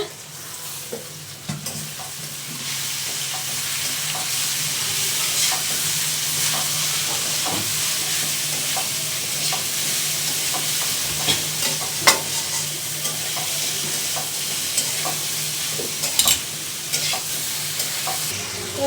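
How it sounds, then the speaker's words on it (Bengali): Bitter gourd and potato frying in a pan, a steady, loud sizzling hiss that holds throughout, with occasional faint clicks of a utensil and no talking. "যে এখানে উচ্ছে আলু ভাজা হচ্ছে"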